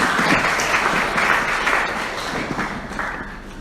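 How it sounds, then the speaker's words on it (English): Audience applause at a Tamil theatre forum event, a full, even roar of many hands clapping that fades slightly toward the end. "big round of applause for Mr. S.S. Sharma."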